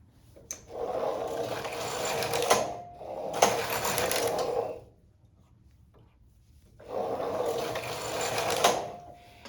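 Knitting machine fitted with a ribber carriage knitting short-row lace, three bursts of whirring, clattering carriage passes with a pause between, close and fairly loud.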